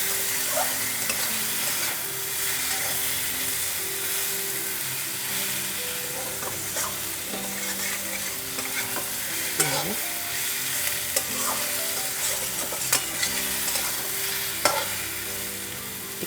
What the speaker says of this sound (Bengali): এবার ভালো করে ভেজে নিতে হবে এভাবে ভেজে নিতে হবে